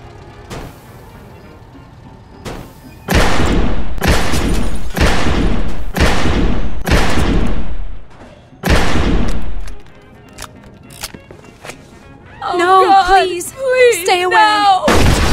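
In Mafia 2, loud automatic weapons fire in a series of long, booming bursts at close range, with brief pauses between them. A voice speaks after the shooting stops.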